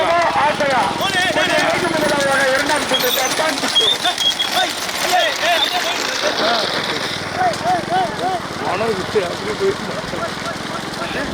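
A bullock cart race runs with hooves clattering and engine noise rumbling along, while excited commentary carries over the top almost throughout.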